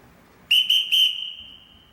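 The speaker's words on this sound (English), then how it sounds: "Everyone in this house answers to a whistle." A whistle blown indoors to summon a household sounds three short shrill blasts in quick succession, loud and close, the last held slightly longer before fading into a quiet room.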